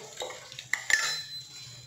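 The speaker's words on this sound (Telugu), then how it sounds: "బాగా కలుపుకోవాలి" A spoon stirs tomato dal with tamarind pulp and coriander in a pot, giving a few short scraping clinks against the metal over a quiet background.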